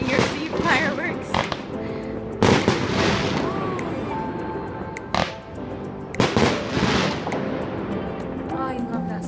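Fireworks burst in repeated loud booms and crackles, a few seconds apart, over a noisy crowd murmuring and talking in Prague.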